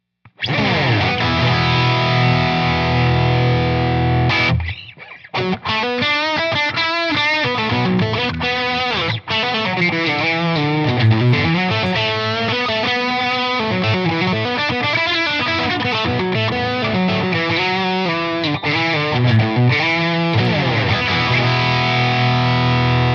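Heavily distorted electric guitar plays chugging chords and riffs, loud and continuous, with a brief pause partway through.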